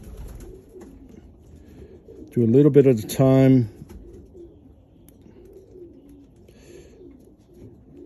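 A show pigeon coos in a short burst of about a second while being held for grooming, clearly audible between stretches of quiet speech from a nearby person.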